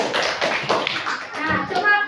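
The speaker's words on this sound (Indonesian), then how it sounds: "tepuk tangan untuk kelompok 3 yang memberikan tanggapan" Brief clapping from a classroom of students for a presenting group during a school lesson, close, mixed with children's voices and a teacher talking over it.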